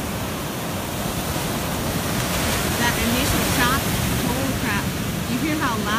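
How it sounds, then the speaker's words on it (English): Ocean waves break on a beach in a loud, continuous wash of surf with wind noise, while people talk and exclaim over it. "Ooh, this is a big wave."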